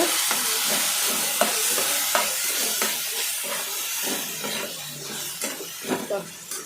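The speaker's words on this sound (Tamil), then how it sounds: "இதே நம்ம இப்போ கருவேப்பிலையும் சேர்த்துக்கலாம். ரெண்டையுமே சேர்த்து நல்லா கிளறி விட்டுடலாங்க" Crushed garlic and curry leaves fry in a pan and get stirred, a soft steady sizzle broken by repeated scraping strokes and light knocks, fairly close and moderate in level.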